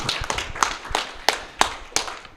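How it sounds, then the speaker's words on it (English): Sparse clapping from an audience at a Keenevention panel event, a handful of sharp, separate claps spaced irregularly, fairly close and moderate in loudness. "Let's give them a round of applause to thank them."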